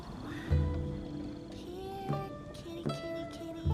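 A cat in the game Genshin Impact meows several times in drawn-out, tonal calls over soft background music, with brief pauses between each cry.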